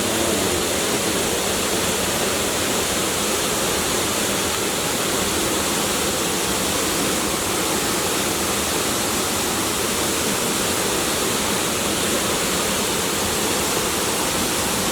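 Kima Atas waterfall near Manado, a loud, unbroken roar of falling water that stays steady and close throughout, with no voices.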